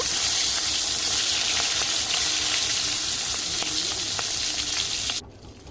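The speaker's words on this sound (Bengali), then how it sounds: "খুবই ভালো করে এই মাথাটাকে ভাজতে হবে। মাছের এক পিঠ ভাজা হয়ে গেছে, আমি উল্টে দিলাম আর এক পিঠ ভেজে নেওয়ার জন্য।" A hilsa fish head frying in oil gives a loud, dense, continuous sizzle close up for about five seconds, then drops abruptly to a quieter hiss.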